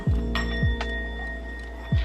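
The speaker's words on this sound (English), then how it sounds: "don't be discouraged if you do pick up a singing bowl for the first time and it doesn't sing" A singing bowl struck without being made to sing gives short metallic clinks, three separated taps with brief ringing tones lingering between them, close and fairly clear.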